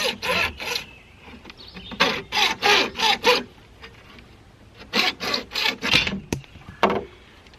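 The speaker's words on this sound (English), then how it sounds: "I'm just using my hacksaw to cut this pipe" A hacksaw cuts through PVC pipe in two bursts of quick, rhythmic rasping strokes, close and loud, separated by a short pause, with no talk.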